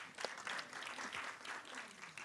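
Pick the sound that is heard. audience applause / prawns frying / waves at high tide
audience applause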